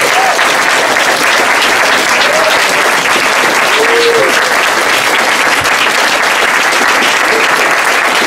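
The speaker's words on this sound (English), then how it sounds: "One more big round of applause." An audience at a live talk event breaks into sustained, loud applause, a dense continuous wash of clapping from a large crowd with a few faint whistles or calls over it.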